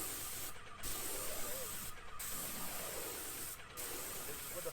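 A sprayer lays stain onto a wooden fence in long continuous hissing passes, broken by three short pauses as the trigger is released, close and steady with no talk.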